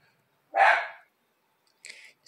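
A small startled dog gives one sharp, fairly loud bark indoors, followed after a pause by a couple of softer, brief yips.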